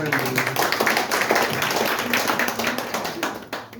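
Audience at an LDP-2 herbal products event in Assam claps in a dense, steady round of hand claps filling the room, fading slightly near the end with faint voices underneath.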